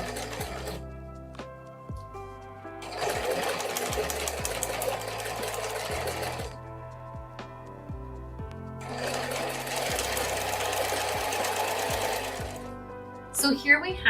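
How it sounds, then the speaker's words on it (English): A sewing machine stitches seams on a quilt block, running in two sustained whirring bursts with short pauses between them. The motor hum is close and even, with a brief clatter at the very end. "we'll pin here and sew all along here."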